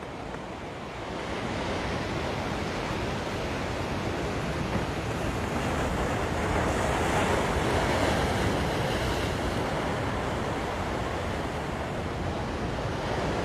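Ocean waves break and wash continuously onshore at Ala Moana Beach, Hawaii, a loud, steady surf roar with some wind noise on the microphone and no talking.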